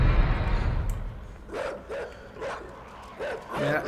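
Dogs in the video game INSIDE bark in a few short, separate bursts after a heavy low rumble fades, at moderate volume over quiet background noise.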